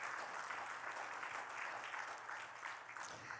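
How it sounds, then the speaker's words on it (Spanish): A church congregation applauds during a Spanish-language sermon, steady broadband clapping from many hands, fairly quiet and distant, continuing evenly without speech on top. "Un aplauso"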